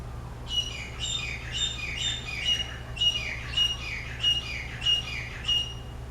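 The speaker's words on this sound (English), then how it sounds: "Birds all around us here." Tropical birds calling outside a bedroom window in Maui, a repeated series of bright chirping calls in a regular rhythm, moderately distant over a low steady background hum.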